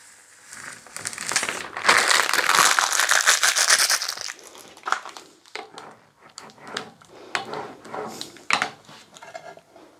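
Reflective vinyl peeled off a slate surface, loud crackling and crinkling at first, then scattered softer tearing and rustling bursts, close by.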